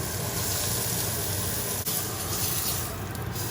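Meat searing in a hot pan for a Valentine's Day dinner, a steady, dense sizzle that hisses continuously at close range with no talking over it.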